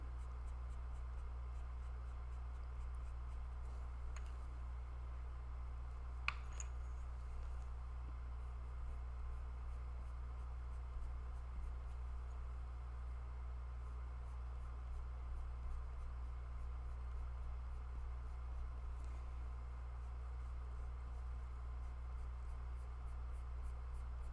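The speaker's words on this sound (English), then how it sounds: "I would take my black pencil" A black pastel pencil scratches softly across paper for a snow leopard drawing. Faint continuous strokes sit under a steady low hum, with one small tap partway through and no talk.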